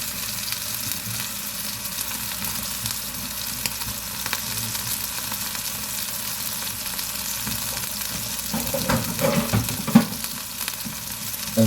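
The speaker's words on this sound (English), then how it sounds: "I'm going to cook this burger up" A burger patty fries in a hot pan on the stove, a steady broad sizzle that stays even throughout, with a few louder pops and scrapes near the end and no talking.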